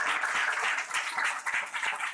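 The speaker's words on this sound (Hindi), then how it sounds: "यीशु के लिए तालियां।" A church congregation claps and applauds in praise during a Hindi/Urdu sermon, a dense steady wash of hand claps with no voices standing out.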